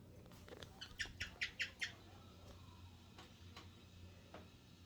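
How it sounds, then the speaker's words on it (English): Pet birds indoors give a quick run of five rising chirps, then a few faint scattered squawks over low room noise. "I promised you to see my birdies"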